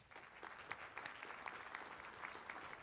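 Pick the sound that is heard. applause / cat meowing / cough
applause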